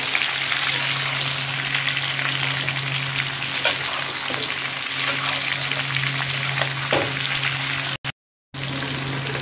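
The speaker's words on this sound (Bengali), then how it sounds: "তেলের মধ্যে ভালো করে কষিয়ে নেব।" Mango pieces sauté in hot oil for a mango oil pickle, giving a steady, dense sizzle and crackle close by. The frying runs continuously, with stirring noises and a brief dropout near the end.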